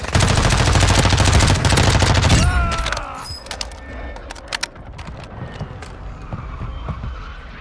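Gunfire rattles loud and fast in the Warzone 2.0 game, a dense burst of automatic fire for about two and a half seconds. A few scattered single shots and sharp cracks follow over quieter background noise.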